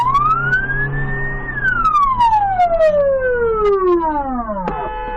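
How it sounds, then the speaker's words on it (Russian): A loud, close ambulance siren wails, rising then sliding down in a long sweep before cutting abruptly to a new steady tone. "Машина с включенной сиреной пытается подъехать к подъезду."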